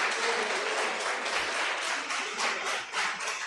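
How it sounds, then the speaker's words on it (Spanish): A church congregation at a prayer service breaks into loud, continuous applause, dense and sustained throughout the short stretch. "Dale un aplauso al Señor."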